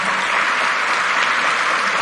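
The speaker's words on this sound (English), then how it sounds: "First of all, I would like you to give a round of applause." Audience applause at the Global Fintech Fest 2024 for the RBI governor, a dense, steady wash of many hands clapping at once, loud and close throughout the two seconds with no talk over it.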